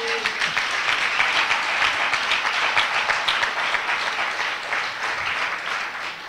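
A church congregation applauds to acclaim the Lord during a worship service, sustained dense clapping from many hands, fairly loud and steady throughout, with a few voices mixed in.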